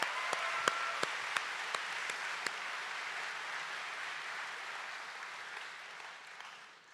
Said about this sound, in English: Let's hear another round of applause for them.